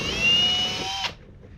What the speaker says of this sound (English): So I'm just going to go ahead and drill them now.